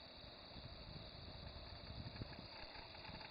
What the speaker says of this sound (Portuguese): Máxima RPM desse motor.